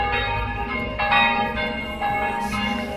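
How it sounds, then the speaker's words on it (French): Church bells in Dublin peal continuously at the end of the war, several bells ringing together with overlapping resonant strikes, loud and fairly close, no voices. "Toutes les cloches sonnent."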